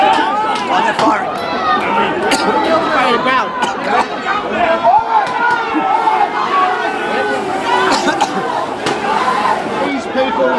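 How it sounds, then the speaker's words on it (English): A protest crowd dispersing after pepper spray and rubber bullets, a dense loud hubbub of shouting, chatter and running footsteps filling the whole stretch without pause. "The crowd is now starting to disperse."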